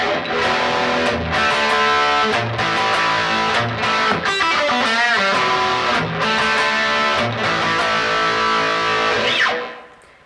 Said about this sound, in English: So putting that all together sounds like this.